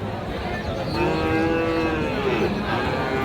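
Several cattle, including Friesian heifer calves, moo loudly in drawn-out calls over a busy, noisy background crowd at Raniganj cattle market, Dinajpur.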